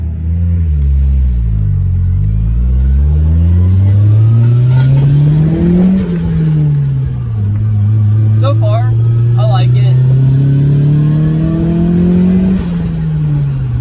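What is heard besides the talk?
turbocharged car engine accelerating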